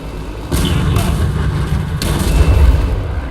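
Bombs exploding on an enemy airfield in War Thunder: two heavy, close booms hit a second apart, followed by a deep rumbling blast that rolls on under steady engine drone.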